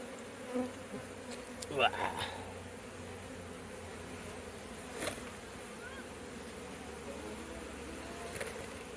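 Honey bees buzzing in a steady hum, with individual bees droning past close by at moments.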